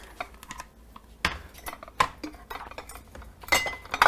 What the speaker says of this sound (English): We're gonna start this morning off by putting away my clean dishes